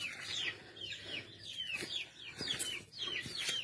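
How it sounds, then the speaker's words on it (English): Around sixty chickens cluck and chirp inside a coop, giving a soft, steady stream of overlapping clucks and short squawks heard at a moderate distance. "right now full of about 60 chicken in it"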